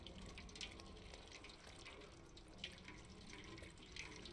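A tap runs steadily in the Stray game, with a faint, continuous trickle of water and small splashy accents, quiet and alone with no talk.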